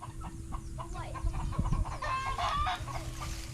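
Chickens clucking in a fowl yard, a run of short, close clucks and calls over steady low background noise, with no talking.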